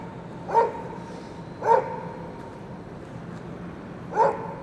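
A Doberman barks three separate times, spaced a second or more apart, carrying from a distance over steady street noise in Midtown Manhattan on New Year's Day.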